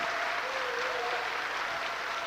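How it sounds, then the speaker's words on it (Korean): A church congregation applauds during a sermon: dense, steady clapping from many hands fills the whole stretch at an even level, with no voices over it. "이 박수는 저한테 하는 게 아니라 목사님께 박수."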